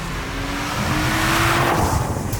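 A 450 hp 2021 Audi RS5 Sportback engine revs freely, a brief, rising mechanical roar heard with no talk.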